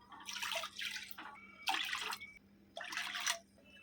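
Water being poured into a wide cooking pot while making Chettinad paal kozhukattai. It comes in three separate splashing bursts with short pauses between them, close and fairly soft.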